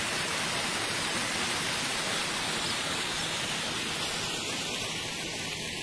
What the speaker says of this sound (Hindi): ये अभी एक और पानी की नदी हमारे रास्ते में आई है